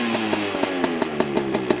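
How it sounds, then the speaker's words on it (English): A modified Yamaha PW80 dirt bike two-stroke engine with FMF parts revs close by, its buzzing note climbing quickly with rapid regular firing pulses, and no voices. "Just slowly increase it. Quite quick to rev,"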